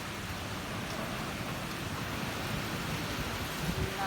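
Steady, dense rain falling during Typhoon Kristine, a constant loud hiss of drops on surfaces with no breaks, near and continuous throughout.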